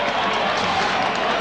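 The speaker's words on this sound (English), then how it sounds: "A large crowd here at Redfern applaud that decision" A large crowd at a 1982 rugby league match between Souths and Canterbury at Redfern applauds a penalty decision, a steady wash of distant clapping and cheering with faint commentary underneath.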